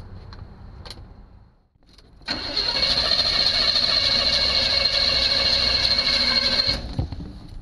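A 1976 Chevy Chevelle engine cranking for about four and a half seconds with a steady loud starter whine, fuel poured into the carburetor bowl beforehand, stopping without catching.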